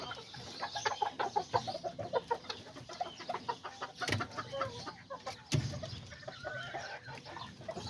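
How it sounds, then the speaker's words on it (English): A small rooster clucks in quick, soft repeated bursts nearby, a choppy rhythmic series of low calls with a couple of sharp knocks and other faint bird sounds around it. "that's one of my favorite little roosters"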